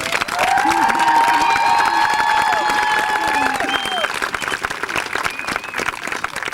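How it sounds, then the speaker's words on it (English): A crowd at a 1996 elementary school promotion ceremony gives loud, sustained applause for a 5th grade recognition chairman, with cheering voices and children's shouts rising over the clapping before it tapers off. "May I please present Miss Vicki Lammers a huge round of applause"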